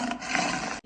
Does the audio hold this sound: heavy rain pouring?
no